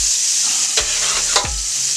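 Pork chops brown in a greasy pan with a loud, steady sizzle, broken by a couple of brief scraping stirs.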